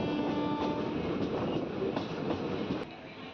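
A Dhone–Guntur express passenger train rumbles along with a steady low roar and faint rhythmic clacks of wheels over rail joints, easing slightly toward the end as it reaches Nandyal station.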